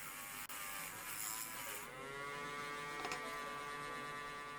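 A Dremel rotary tool polishes a die-cast Matchbox model car casting, a steady high whine running throughout with slight pitch shifts as the tool loads against the metal, close and fairly loud.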